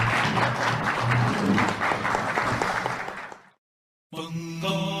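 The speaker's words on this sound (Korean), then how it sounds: "세 분께 다시 한번 큰 박수 드리면서" Audience applause at the close of a Korean lecture event honoring three speakers, loud dense clapping for about three and a half seconds that cuts to silence, followed by a different sound starting abruptly.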